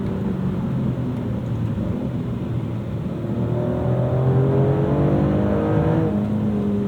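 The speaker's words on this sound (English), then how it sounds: "You can hear that engine very front and center." A 2025 Maserati Grecale Trofeo engine revs hard and climbs through several gear shifts, steady and close, with no talking over it.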